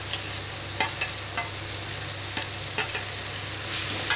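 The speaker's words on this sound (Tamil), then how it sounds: "கடுகு வெடிக்கிறது. அப்போ இந்த மாங்காயை போட்டேன்." Mustard seeds spluttering and grated raw mango frying in oil for a mango thokku pickle, a dense steady sizzle with sharp pops and scraping stirs repeating every second or so, no one speaking.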